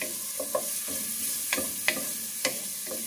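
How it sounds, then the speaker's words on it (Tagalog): Garlic, onion and tomato being sautéed in hot oil, with soft steady sizzling and a few distinct stirring scrapes and clicks against the pan, heard alone and fairly close. "Bali ngayon po ay gigisahin natin ang bawang, sibuyas, at kamatis."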